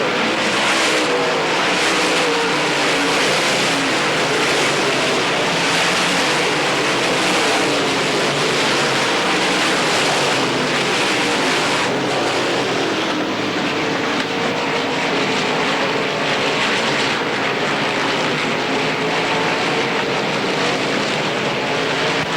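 Dirt track race cars battling through the corners at Pennsboro Speedway in 1990, a dense continuous engine roar that swells and fades as the pack passes, loud and without speech.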